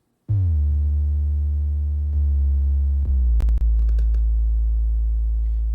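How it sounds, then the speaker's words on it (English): A deep, dry synth sub bass drones loudly and steadily, sliding between low notes, with a few faint clicks near the end. "I just wanted that really dry, big sort of sub bass sound"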